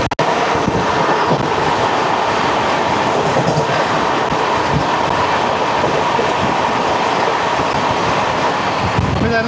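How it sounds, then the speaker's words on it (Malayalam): Mumbai CSMT–Solapur Vande Bharat Express passing nearby: a steady, loud rolling roar of rail wagons with faint wheel clatter, sustained throughout with no break. "ഇതായിരുന്നു മുംബൈ CSMT സോലാപൂർ വന്ദേ ഭാരത് എക്സ്പ്രസ്."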